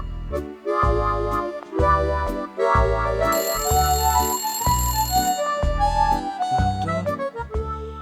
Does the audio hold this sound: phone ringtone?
yes